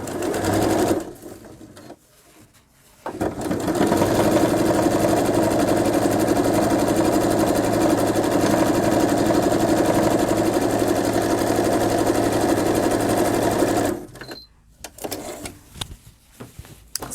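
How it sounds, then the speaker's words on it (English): A sewing machine stitches steadily through folded fabric on a quilting ruler project, a loud continuous mechanical whirr running about ten seconds after short starts and stops, with no talking. "I'm going to stitch through this again."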